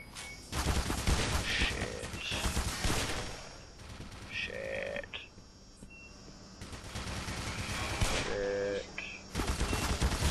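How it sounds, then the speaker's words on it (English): Repeated bursts of gunfire from a weapon in the video game Black Mesa, loud and close, mixed with game sound effects across the clip. "I literally shot at it and nothing happened"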